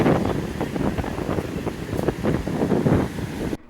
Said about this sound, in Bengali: চুলটুল এত উঠছে, ঠান্ডা হাওয়া দিচ্ছে,